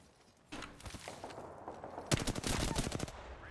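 Gunfire in the Apex Legends video game: a rapid automatic burst fades in, then a sharper, denser volley of shots close by, fairly loud and with no voices over it.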